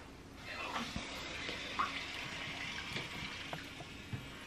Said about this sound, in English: When you put it in the water, it immediately starts pumping the water through the top and changing colors.